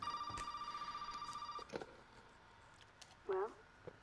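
An in-game telephone rings with a steady electronic trill for over a second in Resident Evil 7: Biohazard, fairly faint, followed by a couple of thumps and a short voice sound.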